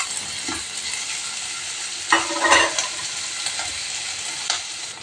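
Chicken fries with curry leaves for chicken majestic. An even, moderate sizzle carries on alone, broken by a brief louder burst of stirring midway and a few lighter knocks.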